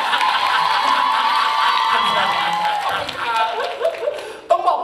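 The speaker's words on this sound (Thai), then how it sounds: "ปรบมือให้กับเจ้าของความคิดนี้ด้วยฮะ" Audience at a WOODZ world tour press conference in Bangkok cheering and applauding, a dense crowd sound with voices mixed in, fading toward the end before a brief sharp burst.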